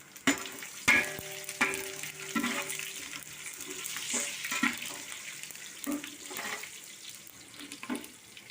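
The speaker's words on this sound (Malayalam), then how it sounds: "ഞാൻ ഈ പാനിലേക്ക് നെയ്യ് ഒഴിച്ചു കൊടുത്തിട്ടുണ്ട് ഇതിലേക്ക് നമുക്ക് മസാലക്കൂട്ട് ഇട്ട് കൊടുക്കാം" Spice masala frying in hot ghee in a pan while cooking mutton biryani: a close, steady sizzle broken by repeated scraping stirs, with no talk.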